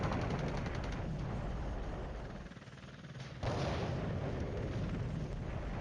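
Artillery bombardment rumbles in the Flashpoint Campaigns Cold War video game, a continuous low, dense roll of distant blasts that dips briefly in loudness before surging back with a sharp impact.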